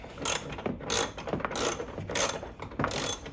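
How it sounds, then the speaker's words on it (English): Ratchet wrench backing a bolt out of a 2016 Nissan Rogue during windshield washer fluid reservoir replacement, heard as close, repeated clicking bursts in a steady rhythm of about four strokes. "This is an actual bolt that's coming out."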